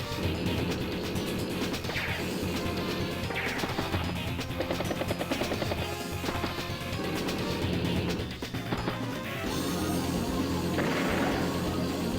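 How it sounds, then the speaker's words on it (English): In the Advance Wars: Days of Ruin strategy game, a command copter unit is destroyed amid dense, continuous game audio: rotor-like whirring and music layered with a few sharp crash and impact hits. "Takes out Waylon's command copter."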